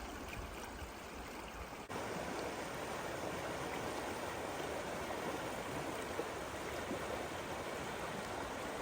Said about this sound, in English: Deep and swift. We're trying to get up there so we can glass is what we're trying to do. It's a brutal river.